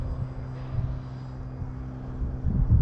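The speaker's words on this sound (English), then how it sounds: "it's just so easy to fly this plane" An RC Carbon Cub S2 model airplane flying in wind, a steady low electric motor drone that swells briefly near the end, mixed with wind buffeting on the microphone.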